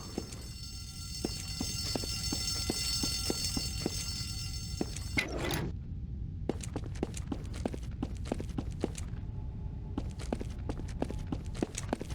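An alarm sounds in the Garry's Mod game map Dead Center, a steady multi-tone electronic wail that holds for about five seconds and then drops out, while in-game footsteps click steadily throughout.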